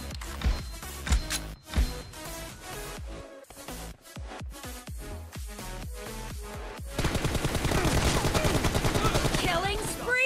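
Rapid automatic M416 rifle fire in PUBG Mobile inside a warehouse custom room, with sharp separate shots at first and then a loud sustained burst, plus game announcer voice lines.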